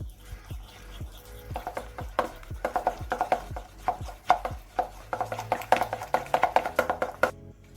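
Spoon or utensil stirring taco sauce ingredients with lemon juice in a bowl, a run of quick, close clinks and scrapes in an uneven rhythm, moderately quiet.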